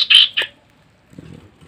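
Birds kept alongside a collared scops owl give two sharp, loud squawks close by, followed by a brief faint low rustle.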